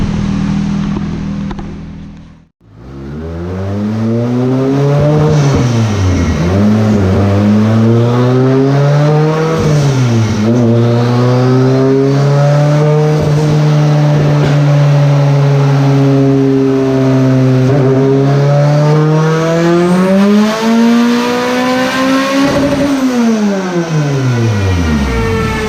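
A car pulls hard through third gear, the engine note rising steadily and loudly after a brief cut, holding a strong, continuous roar with clear harmonics for over twenty seconds before easing off near the end.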